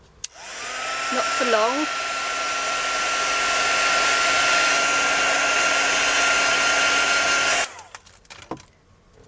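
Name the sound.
heat tool reheating hot glue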